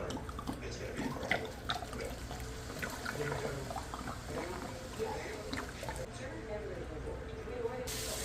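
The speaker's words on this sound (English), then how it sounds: "now he's going in with the wine" Red wine poured from a bottle into a pot of Bolognese sauce, a continuous liquid gurgle and splash heard close under a low kitchen background, steady throughout with no clear pauses.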